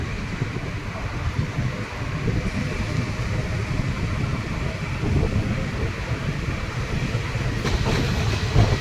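The Kottayam–Nilambur Express rumbles and clatters steadily along the rails as it arrives at platform two of Aluva station, with a loud, continuous rolling roar and some wind noise.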